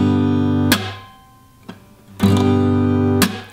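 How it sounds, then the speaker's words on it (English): An acoustic guitar chord rings out, broken by sharp palm-muted percussive strikes across the strings, then sustained chords resume, close and clear with no talking. "I cover up the strings with my palm, and then strike through the now muted strings."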